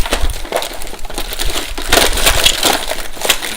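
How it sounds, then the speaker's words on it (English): Someone rummages through a box of music albums, producing close, continuous scraping, rustling and clattering as items shift and knock together, with no speech. "I'm fiddling through this box right now."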